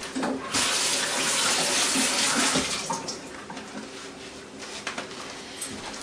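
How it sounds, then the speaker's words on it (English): Running tap water splashes steadily over an unwaxed organic apple being lightly washed in a kitchen sink, loudest in the first few seconds and then settling into a softer, uneven trickle. "and just lightly wash it"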